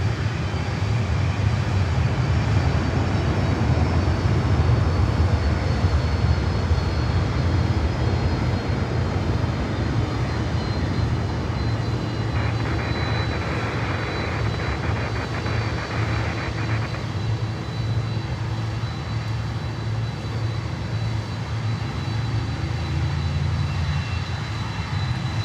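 A Prime Air Boeing 767-300 cargo jet at Miami airport drones loudly and continuously in a low engine roar for the whole stretch, with no voices over it.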